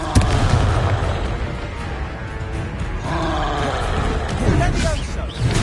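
A Confringo fire-blast spell explodes during combat in the video game Hogwarts Legacy, a loud roaring, booming blast with rumbling fire and effects filling the whole stretch without a break.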